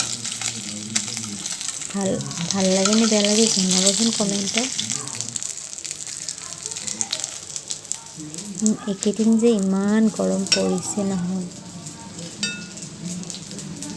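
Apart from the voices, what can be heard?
fish frying in oil in a pan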